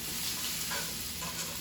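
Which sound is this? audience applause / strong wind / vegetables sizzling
vegetables sizzling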